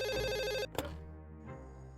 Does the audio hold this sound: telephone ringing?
yes